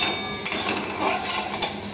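Daliya (broken wheat) is stirred and lightly dry-fried in a pan, making close scraping and soft rattling strokes with a faint sizzle. There are a few distinct knocks of the spoon against the pan, and no one speaks.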